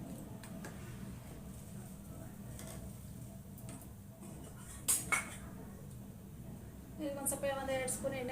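A small frying pan set down on a kitchen stove, a pair of sharp metallic clanks in the middle followed by scraping rattles, heard close over a background hiss with someone talking.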